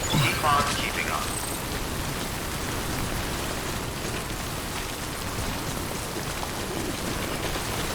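Timefall rain in the video game Death Stranding pours as a dense, steady hiss of falling drops, constant and fairly loud across the whole stretch, with a voice briefly audible at the start.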